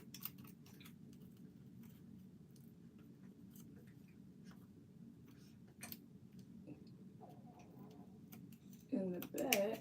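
Scissors snip through a weave band with a few faint, sparse clicks and cuts over a low hum, and a voice speaks briefly near the end.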